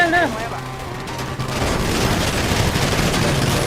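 Rapid gunfire in the video game GTA V during a police roleplay shootout, a dense sustained rattle of shots filling the clip loudly after a brief voice at the start.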